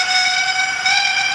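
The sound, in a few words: steam whistle from Hornby 4F model locomotive sound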